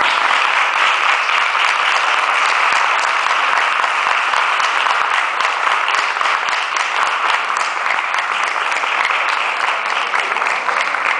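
Sustained applause from an audience thanking a professor at the end of a lecture on Marxism, steady dense clapping at full volume throughout with no pause.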